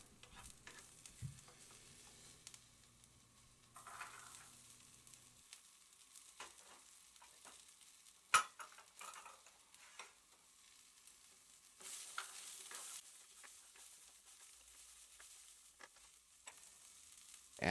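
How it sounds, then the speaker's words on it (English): Garlic and green beans cooking in a pan, a faint, quiet sizzle broken by occasional stirring scrapes and utensil knocks, with one sharper clack near the middle. "Now I'm going to cook the garlic until it turns into nice brown color and crispy. Then I add the green beans."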